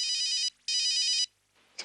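A mobile phone ringtone rings in two long electronic bursts with a short gap, then cuts off into quiet, with a faint brief sound at the end.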